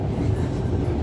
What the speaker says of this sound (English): the LNER northbound train